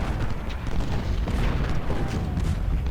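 Artillery fire from 20-pounder Parrott guns in the Civil War strategy game Ultimate General: Civil War, a steady rumbling barrage of booms and low thuds running throughout without a break.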